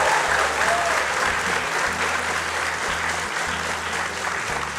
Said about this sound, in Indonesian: Boleh minta tepuk tangannya sekali lagi?